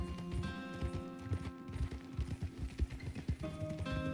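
Horse hooves clip-clopping in a steady, fairly quick rhythm while the horse is ridden, close and moderately loud, with faint background music.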